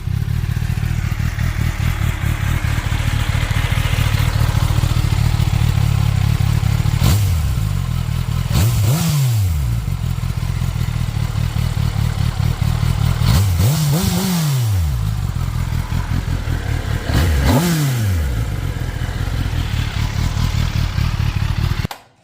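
A 2023 Kawasaki ZX10R sport bike on its stock exhaust idles steadily, then gets three sharp revs that rise and fall back, loud and close with no talking.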